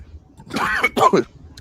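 A person coughs and clears their throat, two short rough bursts close to the mic following a quiet pause, with no talk over them.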